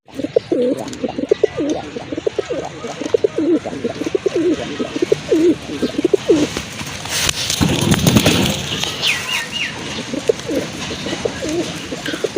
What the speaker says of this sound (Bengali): আরেক জোড়া করার কবুতর